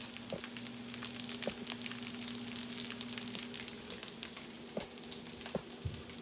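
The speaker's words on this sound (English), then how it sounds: "I'm going to let it simmer" Leftovers simmer in a pot with a soft, continuous sizzle and scattered small pops and bubbles, faint and close, with no talk.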